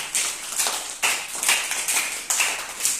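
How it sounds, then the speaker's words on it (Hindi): A classroom of students clapping together, a dense burst of claps in several rhythmic waves roughly every half second, fairly close and with no talk. "सभी लोग ताली बजा दीजिए एक बार"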